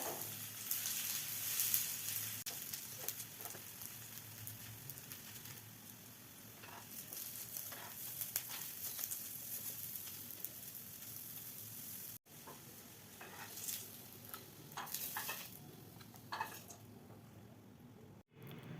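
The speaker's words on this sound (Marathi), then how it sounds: "याच तेलामध्ये मी फ्राय करते" Broccoli tikki fry in shallow oil, a faint steady sizzle with soft crackles and occasional spatula touches, dropping out briefly twice.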